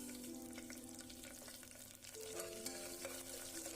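Onions, green chilies and curry leaves sauté in a pan with a faint, continuous sizzle and occasional soft stirring scrapes, no voices present.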